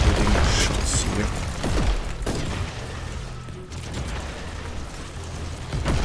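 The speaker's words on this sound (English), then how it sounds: "Let's put out our sniper rifle once more. And do some exploding shots here." Exploding sniper rifle shots in Warhammer 40,000: Inquisitor - Martyr, heavy booming blasts and bursts repeating over a dense, steady bed of game noise and rumble, fairly loud throughout.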